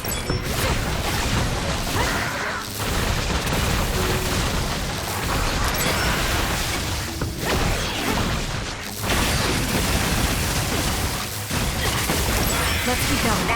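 Attack explosions in the Scarlet Nexus game, with repeated booming bursts and crashes inside a dense, loud wash of game effects and music, broken by a few brief dips.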